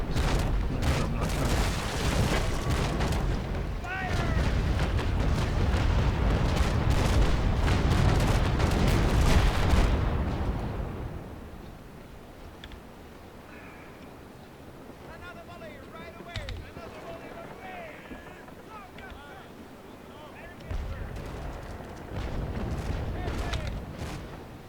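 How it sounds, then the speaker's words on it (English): Ship cannon broadside booming in the naval combat game Naval Action, a loud rolling series of heavy blasts during the first ten seconds, then quieter scattered thuds under someone talking. "Broadside during the darn rudder backwards."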